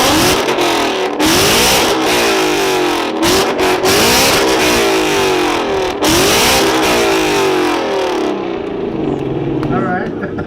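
A Ford Mustang at a loudest-exhaust competition fires up and revs hard in repeated loud bursts, its exhaust roaring close by, with people talking and cheering over it.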